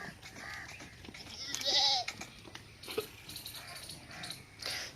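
Goats at a Pakistani livestock gathering give several short, nasal bleats at moderate distance, with faint background murmur between calls.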